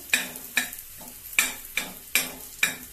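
Jowar thalipeeth cooking in ghee on a pan, a quiet sizzle with six regular sharp taps or pats about every half second, close and distinct, no voices.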